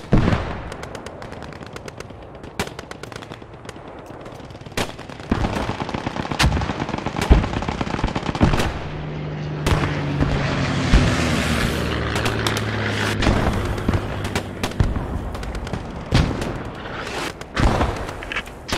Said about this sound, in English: Is that fucking friendly mortar going on?